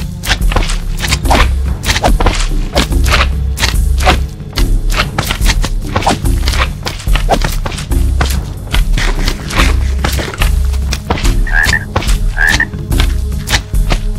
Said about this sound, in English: Are these meant to be frogs?